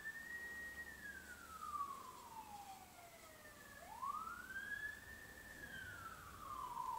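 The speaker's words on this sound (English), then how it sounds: "Sorry about the sirens" A wailing siren, apparently from an emergency vehicle passing outside, sweeps slowly down and back up in pitch, steady and moderately loud over a low background rumble, with no one talking.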